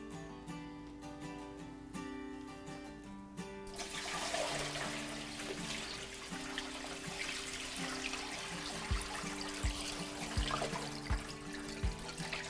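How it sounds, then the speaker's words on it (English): Brine poured over salmon fillets for cold smoking in a steady rushing stream that starts abruptly, with faint background music and a few soft knocks, quiet and close. "we're gonna get our brine and we're gonna pour it over"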